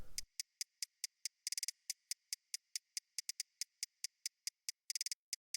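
Crisp, dry hi-hat hits in a quick rhythmic pattern with occasional rapid bursts, bright and isolated with no other instruments.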